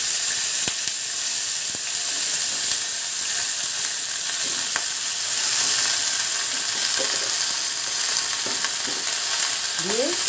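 Chopped vegetable stalks, pumpkin and potato fry loudly in a pan for a Bengali mixed-vegetable dish, a constant close sizzle with a few faint utensil scrapes and clicks.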